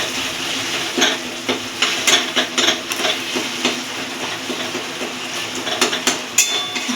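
A ladle presses and scrapes boiled tomatoes in a pan, a steady run of close, sharp knocks and scrapes over a low simmering hiss, irregular in rhythm and with no voices.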